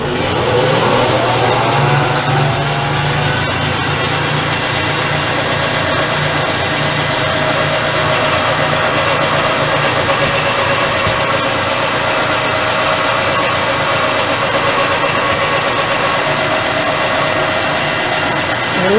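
A dovetail cutter spins up on a milling machine in a shop, a loud steady whirring motor hum that holds constant after a brief rise at the start.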